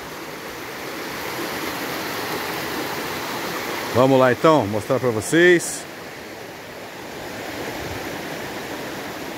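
Fresh water of the Ipiranguinha waterfall in Ubatuba rushes in a steady, unbroken roar throughout, while a voice speaks briefly in the middle.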